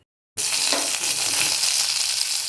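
Loud, steady sizzling of curry leaves dropped into hot oil after mustard seeds have crackled, a tempering for medu vada, beginning abruptly after a brief silence and crackling continuously to the end.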